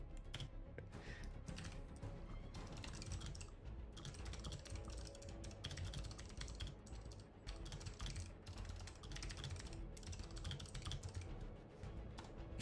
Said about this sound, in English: Type angrily to Foxy.